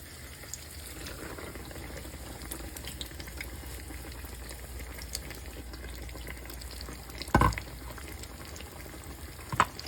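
Thick cut pork chop frying in hot oil for katsu, a steady dense sizzle and crackle throughout, with a brief clatter of utensils near the end.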